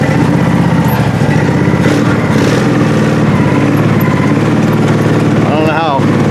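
1957 Chevy four-door car taken for a short spin, its engine rumbling loudly and steadily with a rise in revs near the end.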